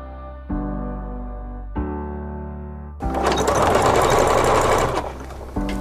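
A sewing machine zigzag-stitches the edges of worn coveralls under repair. Its motor hums and whines in short runs, then speeds into a louder, steady, rattling chatter of stitching, close and with no talk.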